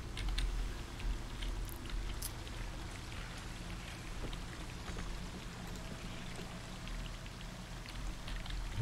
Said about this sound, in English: You listen to the sound of the waterfall.